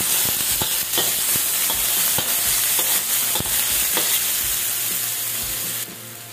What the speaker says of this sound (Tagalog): Una nating lagay itong ating onion.